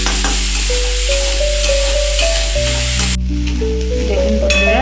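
Onion and garlic frying in oil in a pan give a steady, close sizzle that runs the whole time, with background music playing over it.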